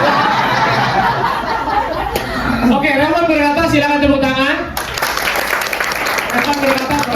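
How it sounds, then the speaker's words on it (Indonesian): Audience clapping during a mentorship session game, applause mixed with chuckles, chatter and prominent talking voices, fairly loud in a lively room. "Oke, Revan berkata, silakan tepuk tangan."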